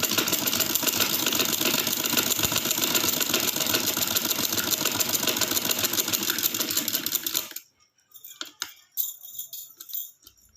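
A domestic sewing machine stitches a sleeve in a steady, fast mechanical whir for about seven seconds, then stops, leaving faint handling clicks and rustles.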